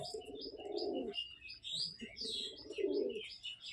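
Barcha pigeons coo softly in low, rolling bursts, close by, with higher chirps from other birds overlapping throughout.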